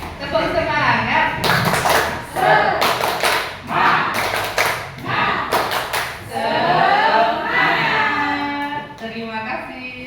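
A group claps in a rhythmic Indonesian 'tepuk semangat' ice-breaker chant at a school gathering, the clap patterns coming in bursts between loud, overlapping voices chanting and talking.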